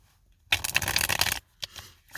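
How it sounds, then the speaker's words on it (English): Tarot cards shuffled by hand in a quick, papery riffle burst lasting about a second, then a couple of shorter shuffling flicks, close and fairly loud with no talking. "shuffling the cards"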